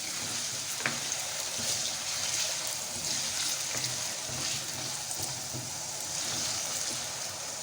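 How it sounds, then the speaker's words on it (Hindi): Potatoes and carrots fry in hot oil in a kadai, giving a steady, close, broadband sizzle with faint stirring clicks throughout and no talk. "तेल गरम हो चुका है, अब हम इसमें डालेंगे आलू।"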